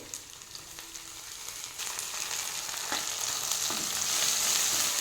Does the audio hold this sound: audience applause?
no